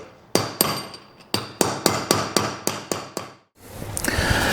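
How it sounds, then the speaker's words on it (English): An old bearing race laid over a new one is struck with a hammer to seat it in a 1947-59 Chevy truck hub: about a dozen sharp metallic blows in a steady rhythm, close and loud, followed by a short pause and faint handling noise. "And when this gets hammered flat, again, you still have to go down about 1/4 of an inch or so."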